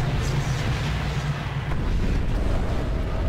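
A huge nuclear explosion in a Minecraft Godzilla Minus One addon roars as a loud, sustained low rumble with a broad wash of noise, without any voices over it.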